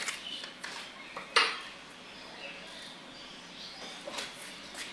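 Spoon stirring lentil dal seasoned with chaat masala in a pan. Faint, sparse metallic clinks and scrapes, with one sharper knock, over a quiet background.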